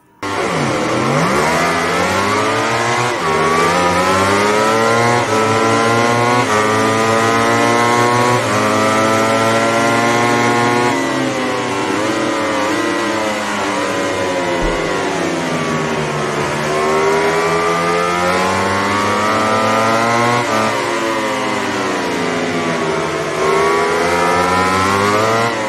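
Motorcycle engines from the MotoGP racing video game rev continuously and loudly, the pitch sweeping up and down through repeated gear changes with no speech over them.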